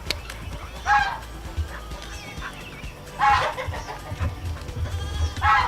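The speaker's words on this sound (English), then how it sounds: "That's a big goat, bud." A large goat named Herc on a farm, with bleats rising out of a busy barnyard, other livestock and fowl calling faintly around it in a steady low background.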